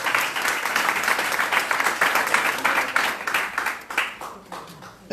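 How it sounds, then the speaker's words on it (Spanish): A church congregation breaks into loud, sustained applause, dense clapping that holds steady for several seconds and then thins and fades toward the end, with a few voices mixed in. "Denle un fuerte aplauso al Señor."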